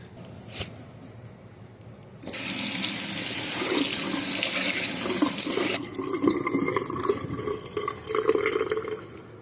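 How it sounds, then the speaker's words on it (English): Tap water gushes from a faucet onto a cut water oak wood cookie, a loud, steady splashing rush that starts abruptly after a faint knock, runs a few seconds, then drops to a softer trickle with drips. "run it under some water, and check out that grain reveal"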